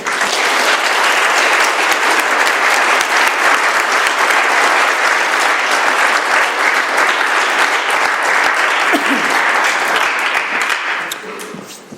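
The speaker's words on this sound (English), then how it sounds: "Please, a nice round of applause for tonight's speaker, Mr. Bob D." Warm, sustained applause from an Alcoholics Anonymous meeting audience in Doylestown, Pennsylvania, welcoming the evening's speaker; dense clapping holds steady for about eleven seconds, then tapers off quickly.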